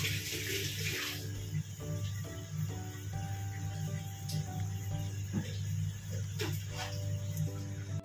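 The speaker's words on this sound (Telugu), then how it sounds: "నానిన పెసరపప్పుని నీళ్లు వడకట్టేయాలి." Soaked moong dal being drained of its soaking water in a kitchen gives a steady, close run of water splashing and trickling away, with faint background hum.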